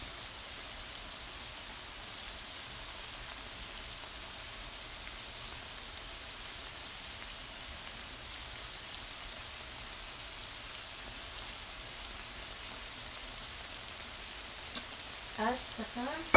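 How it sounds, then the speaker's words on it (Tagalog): Shrimp in garlic and chilli-flake sauce boiling in a pan, a steady soft bubbling sizzle that holds evenly, with a few light clinks near the end. "pinapakulo-kulo ko siya"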